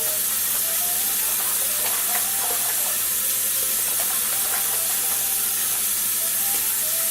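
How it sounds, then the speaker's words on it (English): Bubble bath liquid poured into a tub of running water for a reborn doll's bath, giving a steady hissing, splashing wash of water throughout, close and fairly loud, with no talk. "So I'm going to go ahead and pour some of this in. Get a nice little sudsy mix going."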